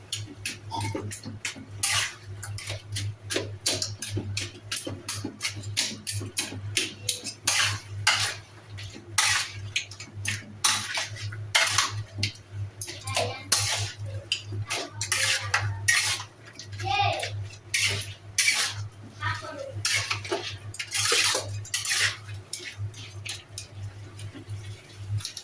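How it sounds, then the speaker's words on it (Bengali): A large silver carp fish head cooking with potato and tomato in a pan, stirred with a utensil that clatters and scrapes against the metal in a rapid, continuous stream of clinks, up close with no talking. "সুন্দর করে কষে নিচ্ছি, সুন্দর করে একটু কষানো করে নাড়াচাড়া করে নেব"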